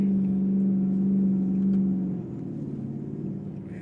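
Straight-piped Dodge Durango RT, black, rumbling low and steady while driving in traffic, a droning exhaust tone that eases off partway through.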